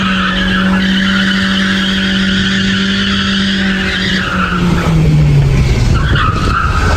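A BMW Z3 does a burnout, its rear tires skidding and squealing in a loud, sustained screech over a revving engine, with the squeal sliding and wavering in pitch near the end.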